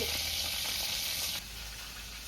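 Fish head frying in hot oil for a Bengali hilsa dish, a loud, steady crackle and hiss close by that drops slightly in level partway through, with no talking.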